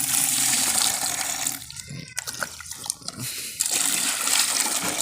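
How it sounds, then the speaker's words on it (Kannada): Hot water pours from a tap in a village home, a loud continuous rushing stream that briefly breaks into splashing and dripping before flowing steadily again. "ನೀರು ಬಿಸಿ ಬಿಸಿ ತಕೊಂಡು"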